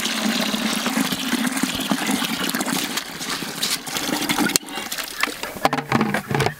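Water rushes and splashes into a broken, hole-riddled bucket holding sunflower seeds for soaking, a loud continuous gushing stream with a brief knock partway through, up close.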